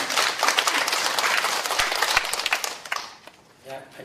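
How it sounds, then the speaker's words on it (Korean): Audience applause welcoming a Ministry of Employment and Labor women's employment policy director to a panel discussion: full, lively clapping for about three seconds that quickly dies away, with a faint voice afterward. "박수로 환영해 주시기 바랍니다"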